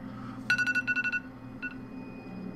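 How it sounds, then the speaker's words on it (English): A mobile phone goes off with a rapid run of electronic tones, repeated in short bursts, then a brief single tone, over a steady background hum. "My phone was going off."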